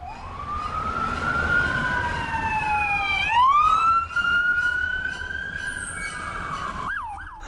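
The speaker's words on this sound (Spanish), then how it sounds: "encendió la sirena de la patrulla y pisó el acelerador." An Ecatepec police patrol car siren wails loudly and continuously, its pitch sweeping up and down in long rising and falling glides before shifting into faster yelps near the end.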